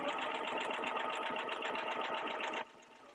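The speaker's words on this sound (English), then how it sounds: "So just line it right up on there, and we'll just sew to the other side." A sewing machine stitches a quilt block in a fast, even mechanical whir with rapid needle clatter, close and steady before stopping abruptly near the end, leaving a quiet hum.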